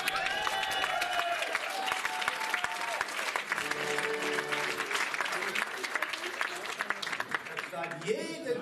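Audience applause fills a carnival session hall, dense steady clapping with crowd noise and some voices mixed in throughout.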